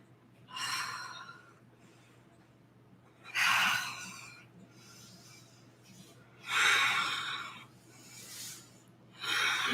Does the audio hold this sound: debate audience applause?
no